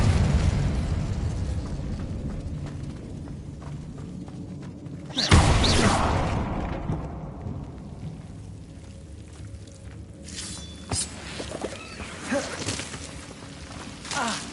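In the video game Hogwarts Legacy, the Incendio fire spell erupts as a sudden loud whooshing burst midway. It follows a rumbling, crackling stretch and is trailed by fading crackles and scattered sharp pops and impacts.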